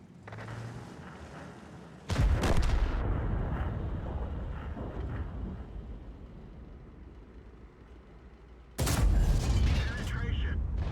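Tank gun shots in World of Tanks gameplay, one at a cupola: a loud sudden boom, a sustained rumbling roar under it, then a second loud blast near the end.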